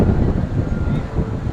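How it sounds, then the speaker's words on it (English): Strong wind buffets the microphone outdoors at a theme park, a loud continuous low rumble that swells and dips with the gusts, close and steady throughout. "It is so windy today."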